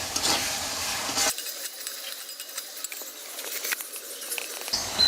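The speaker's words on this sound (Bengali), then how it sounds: "আবারও ভালো করে মিশিয়ে নিচ্ছি।" Salt and ground turmeric being stirred into a fish curry of small river fish with sour yogurt, giving close, soft scraping and pattering clinks from a spoon in the pan, steady for several seconds with no talk.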